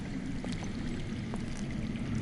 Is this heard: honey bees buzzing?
no